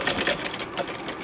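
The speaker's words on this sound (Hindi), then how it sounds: "और ये दूसरी सिलाई हम लगा रहे हैं" A sewing machine stitches a second decorative line around a Punjabi salwar hem, its needle rattling in a quick, close, bursty run of mechanical clatter that slows slightly near the end.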